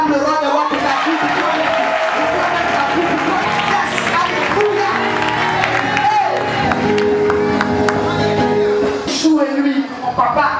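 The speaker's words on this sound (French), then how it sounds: "On acclame le roi des rois pour la vie." A church congregation at a Sunday convention service in Abidjan cheers and acclaims loudly, a dense wall of shouts, whoops and clapping that holds steady and close throughout, with voices mixed into the din.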